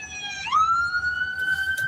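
A police car siren wails nearby, its tone sweeping upward and then holding steady at a high, loud pitch, with faint background noise and no speech.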